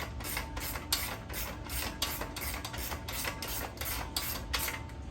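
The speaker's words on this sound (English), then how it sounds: "So tighten the 2 bolts that you've put in there." Spanners tightening two bolts on a steel base frame of a 45 degree chair, a steady run of close, regular metallic clicks and ratcheting scrapes repeating roughly twice a second with no voices.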